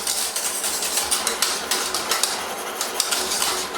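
A vanilla egg-yolk custard is stirred vigorously in a saucepan over low heat, giving a fast, steady run of close scraping and tapping strokes against the pan, with no voices.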